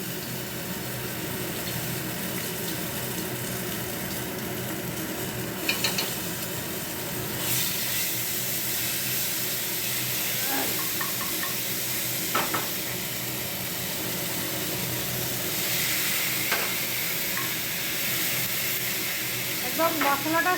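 Cumin, dried chilli and bay leaf fry in hot oil for a fish curry, giving a steady, even sizzle and hiss that runs throughout, with a few faint clinks now and then.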